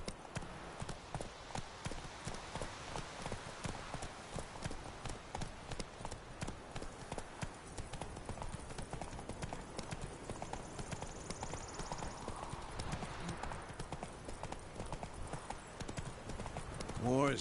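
Hooves of Roach, a horse in the video game The Witcher 3, clip-clopping in a steady walking rhythm, close and clear throughout, with characters talking over the hoofbeats.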